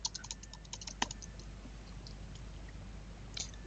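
Quiet, fast tapping on a computer keyboard, a short flurry of light key clicks at the start and one more pair near the end, over a low steady background hum.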